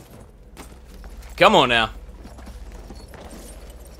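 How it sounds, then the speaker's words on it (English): Black Bess, a horse in Battlefield 1, clip-clops at a walk with soft, steady hoofbeats under a short spoken line. "Oh, tell me we gotta use that horse."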